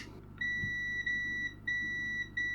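A multimeter in continuity mode beeps three times in steady, clear tones while a faulty docking station is being tested, each beep lasting under half a second with short gaps, alone and with no talking.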